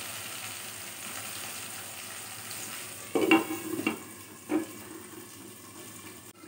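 Tomato softens as it fries in a pan, a low steady sizzle with a few louder bursts of stirring and scraping partway through.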